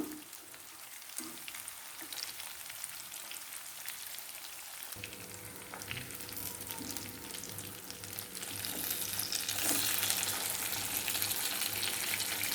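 Spicy masala fish pieces fry in hot oil in a pan, a steady close crackling sizzle that grows denser and louder midway and keeps bubbling with no one talking.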